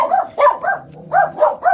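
A dog barks in a quick, loud run of about six sharp barks close by indoors, with no talking over it.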